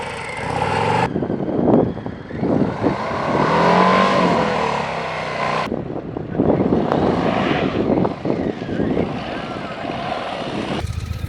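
A 2025 Harley-Davidson Softail motorcycle rides a training course, its engine rumbling and revving in loud surges that rise and fall, close by, with a few abrupt cuts between passes.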